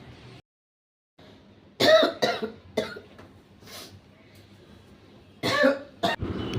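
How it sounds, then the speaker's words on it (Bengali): Indoors in a home, a person coughs several times in loud, harsh bursts with short quiet gaps, some of them run together, and one sounds like throat clearing. "ওখানে প্রচুর কাশির আওয়াজ"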